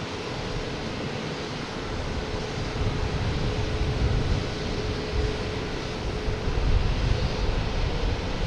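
A Spirit Airlines A320 airliner takes off at Boston Logan, a broad, rushing jet roar that builds gradually in loudness from a distance, heard outdoors with no talking.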